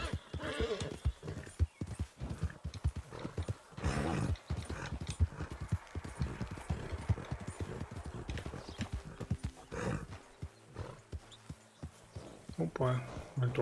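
Rhythmic hoof clip-clops of a horse moving at a steady pace in Red Dead Redemption 2, with a horse whinny and someone talking over much of it.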